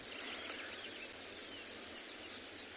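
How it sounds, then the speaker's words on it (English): Birds call faintly at sunrise on a South African safari at Tswalu, with scattered high chirps and insect-like trills over a steady wash of dawn ambience, no talking. "Just sitting and listening to the birds."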